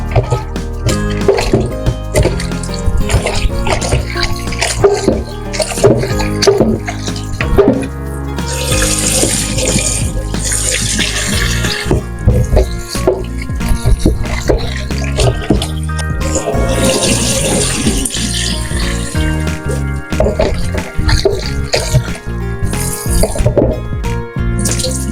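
Pork being washed in a kitchen sink under running water, with a steady tap stream, splashing and clattering as the meat is rubbed and handled, loud and close throughout.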